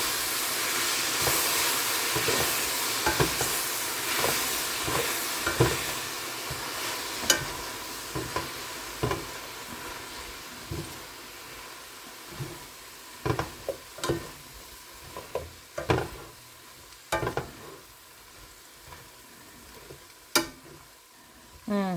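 Cabbage and onions caramelize in an uncovered pan, a soft continuous sizzle and hiss punctuated by sharp, irregular clacks and scrapes as a utensil stirs them, close up.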